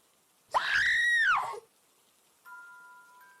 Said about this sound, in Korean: 여자의 찢어질 듯한 비명소리